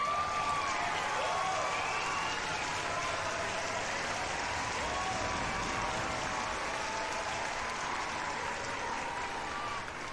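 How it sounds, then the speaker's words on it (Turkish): Continuous applause from a crowd, steady and moderately distant, with a faint whistle-like tone drifting over the clapping. "kocaman bir alkış"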